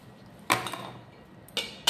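Mixed vegetable salad is tossed in a bowl. Three quick clinks of utensil against the bowl sound close and fairly quiet against a low background.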